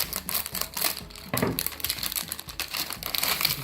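A plastic cookie wrapper from a Japanese food brand is cut and torn open close up, giving a run of irregular crinkles, crackles and sharp snips with no voices.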